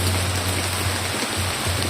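Steady rain falling, a dense continuous hiss with a low hum underneath, no voices.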